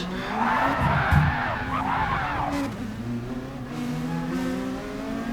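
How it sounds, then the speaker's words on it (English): A race car in GT Sport skids into a 360 spin after contact early in lap one, with a loud tire squeal over engine noise for a couple of seconds before the engine drone and revs carry on alone. "we get sent into a lovely 360 spin by Grumpy"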